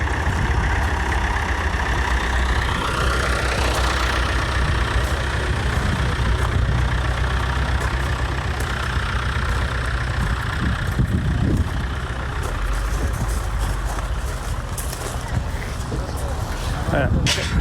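A tractor engine idles at an outdoor car show with a low, continuous rumble. A person talks over it the whole time, and the engine stays steady and fairly close throughout.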